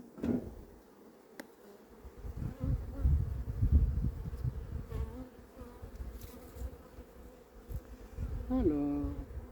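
Honey bees swarming at an open beehive make a steady, close buzzing drone, with occasional knocks and handling noises from working the hive frames.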